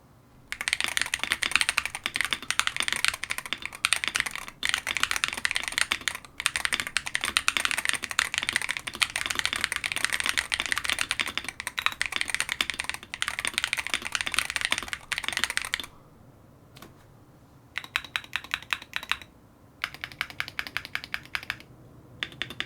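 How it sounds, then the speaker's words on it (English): Rapid, dense typing on a foam-filled Gravastar Mercury mechanical keyboard, with steady close keystrokes for about sixteen seconds and then a few sparser bursts of clicks, with no talking. "here's a sound test of the Mercury"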